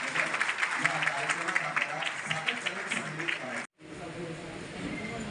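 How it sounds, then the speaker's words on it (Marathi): Applause from the crowd at a party workers' meeting, a dense stretch of clapping that breaks off abruptly, with a voice speaking over it. "आपल्या सर्वांच्या टाळ्यांचा निनाद"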